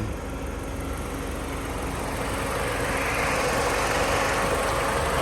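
A 2005 Chrysler PT Cruiser engine runs steadily, a broad, even mechanical hum and rumble that swells slightly in the second half, close and continuous with no speech.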